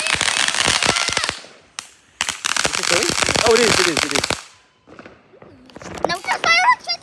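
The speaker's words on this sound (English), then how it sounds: "Oh my God, there's fireworks." Fireworks crack and pop in rapid, loud bursts and volleys, with a pause midway and more scattered bangs near the end, while children talk and exclaim over them.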